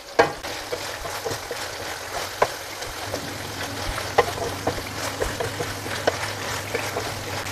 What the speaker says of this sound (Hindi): तमाम टमाटरों को अच्छी तरह मैश करने के बाद अब इसमें मिक्स कर देंगे चिकन में और अब इसकी भुनाई शुरू करेंगे